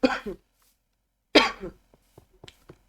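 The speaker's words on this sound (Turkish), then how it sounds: "Vallahi biraz öksürüyorum ama." Two close, harsh coughs separated by a pause, followed by faint small clicks and rustles.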